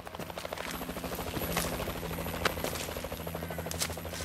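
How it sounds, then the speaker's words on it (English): In the Call of Duty: Advanced Warfare biolab mission, a helicopter circles overhead with a steady rotor thrum, mixed with distant gunfire pops and game ambience at moderate volume. "Helo's circling around."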